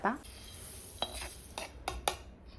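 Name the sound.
dry roasting coriander seeds in a pan without oil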